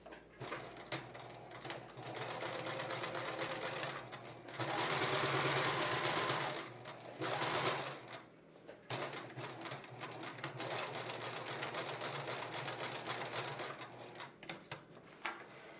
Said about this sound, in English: let's go ahead and create a zigzag stitch along the edge of the fabric of the curve.